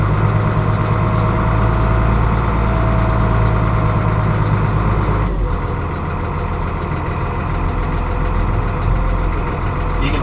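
A Massey Ferguson Dyna-VT tractor drives along, its loud, steady diesel engine drone close by, with a slight shift in tone partway through as speed changes and no talking.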